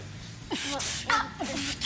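A short burst of sharp, breathy sneezes, two or three quick explosive bursts close to the listener.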